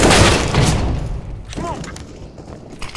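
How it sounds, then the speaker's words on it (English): A grenade blast in a Counter-Strike style shooter match, a loud broadband boom at the start that decays into rumbling debris, with a brief whistling tone and scattered clicks afterward. "Grenade."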